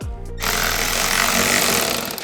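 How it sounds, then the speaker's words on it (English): A power impact gun drives a fastener on a rock-light bracket of a Segway Villain, giving one loud, continuous rattling buzz at close range that holds steady for about two seconds after a brief start. "So now I'm gonna get my gun and zap that out of there."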